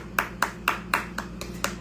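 Hands clapping seven times at an even, quick pace, close and fairly loud over a faint steady hum.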